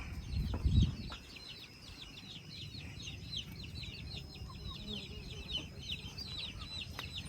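Chickens in a poultry pen cluck in a steady, busy chatter, with a few louder squawks and a short thud of nearby movement at the start.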